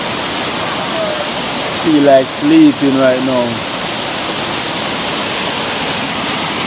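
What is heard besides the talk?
river running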